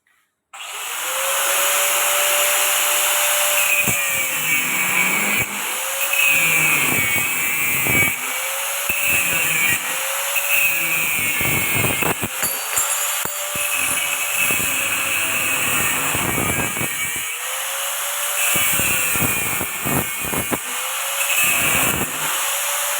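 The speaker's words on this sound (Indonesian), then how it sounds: "Kita gerinda ya Pak. Gerinda dulu Pak." An angle grinder works metal close by, a loud, steady whine that keeps rising and dropping in pitch as the disc bites and eases off, with clanks and scraping in between.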